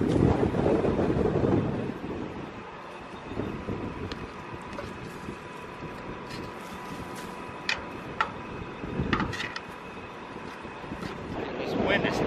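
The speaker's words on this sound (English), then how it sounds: "This wind is terrible today." Strong outdoor wind buffets the microphone on a farm field beside a fertilizer toolbar, a loud rumbling gusty roar with brief ticks and knocks, easing slightly after the opening seconds and swelling again near the end.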